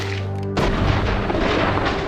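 A large gun fires once at a target 40 feet away during a bullet speed test, a single loud sharp report that breaks a low steady hum and leaves a dense, noisy rumble trailing after it.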